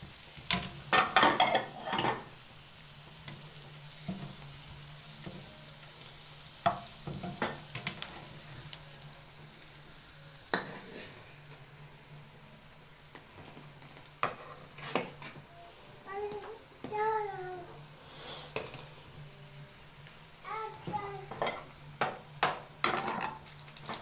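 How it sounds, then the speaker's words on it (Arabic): Onions fry quietly in a pan while a utensil scrapes and clacks against it at irregular intervals, giving short knocks over a soft, continuous sizzle, with no speech. "بقلبها وبهدي عليها عشان خاطر ايه ما تلزقش"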